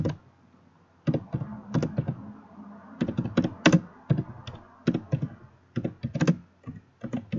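A computer keyboard clatters as HTML code is typed, in bursts of quick, close, crisp keystrokes separated by short pauses, with no voice over them.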